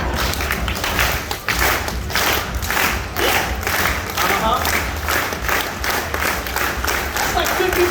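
A large crowd at a dolphin show claps rhythmically and cheers, a loud, dense wash of hand claps and shouting that keeps going throughout, with a voice calling out over it.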